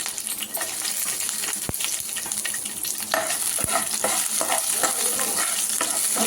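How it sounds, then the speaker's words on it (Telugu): Five green chillies frying in leftover oil for Karnataka-style chicken donne biryani, a loud, dense, steady sizzle close by, with stirring and a couple of sharp metallic taps on the pan. "దీంట్లో ఒక 5 పచ్చిమిర్చి వేసేసి ఫ్రై చేసుకోవాలి"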